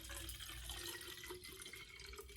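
Tap water running into a water filter pitcher at a sink, a faint steady stream and trickle with no talk.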